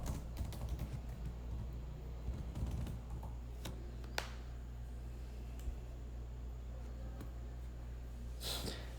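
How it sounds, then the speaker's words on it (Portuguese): Quiet, irregular key clicks from someone typing a message on a computer keyboard, close by, over a steady low electrical hum, with no one talking. "estava digitando um recado lá no grupo de vocês do WhatsApp"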